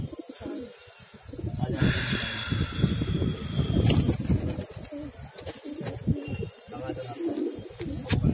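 Pigeons on a rooftop coo and call steadily up close, with rustling and some wing movement, while someone talks over them throughout.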